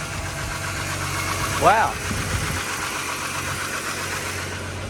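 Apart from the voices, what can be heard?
Ford BF XR6 engine running after VCT solenoid replacement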